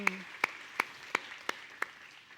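Faint, evenly spaced hand claps, about six of them in a steady slow rhythm, as an audience applauds a guest's stepmother at a televised talk event.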